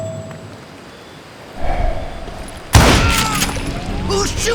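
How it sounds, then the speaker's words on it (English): Gunfire in the Western shooter Call of Juarez Gunslinger, at a camp near Parachute, Colorado: a dull boom, then a sudden loud crack with a rattling burst of shots and debris over game sounds. "We're under fire!"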